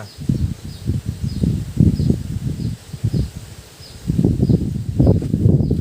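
Gusting wind buffets outdoors in uneven, low, rumbling surges that swell and fade every second or so, loud and close with no voices.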